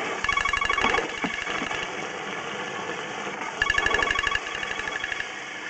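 A phone rings during a sewer line inspection, two bursts of a trilling electronic ring about three seconds apart, close and fairly loud over a steady mechanical hum.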